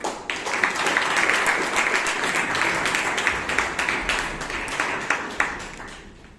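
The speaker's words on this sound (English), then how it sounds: "with a huge round of applause" An audience at a Toastmasters club meeting gives a speaker a hearty round of applause, a full, continuous clatter of many hands with a few sharper claps standing out before it thins toward the end.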